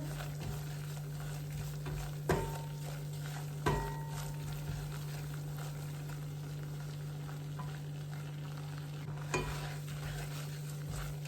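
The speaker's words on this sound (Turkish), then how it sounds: "Gayet güzel kavruldu, köpürdü şöyle." A butter-and-flour roux for béchamel sizzles and foams in a pot while being stirred, a steady close frying hiss punctuated by a few sharp scrapes and clinks of the utensil against the pan.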